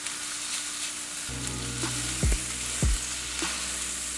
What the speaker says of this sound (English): You gonna hear a little sizzling. I love that sound.